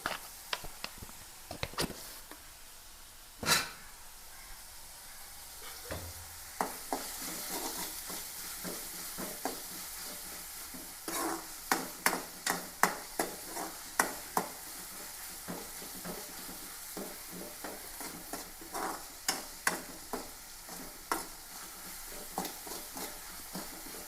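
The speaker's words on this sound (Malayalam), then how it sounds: "ഒരു പച്ചമുളക് എടുത്തിട്ടുണ്ട് ഒരു ചെറിയ സവാള എടുത്തിട്ടുണ്ട് ഇതൊന്ന് വാടട്ടെ" Crushed ginger, garlic, green chili and a small onion sautéing in a pan for a Kerala chicken and bitter gourd dish, a steady broadband sizzle with repeated sharp scraping and stirring clicks, close and fairly loud, with no talking.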